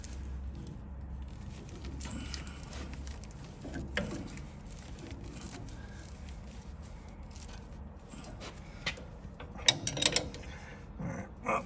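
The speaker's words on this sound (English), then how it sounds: "Old-fashioned wrenching." Hand wrenching on the bolts of coil-over suspension on a Mustang Fastback, faint irregular ratcheting clicks and metallic taps over quiet background, with a few sharper clinks near the end.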